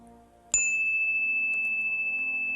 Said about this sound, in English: the sound of the bell fades into the distance